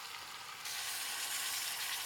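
Meat sizzles in hot oil in a pot for a pot roast, a steady hiss that grows louder partway through and holds, close and without talk.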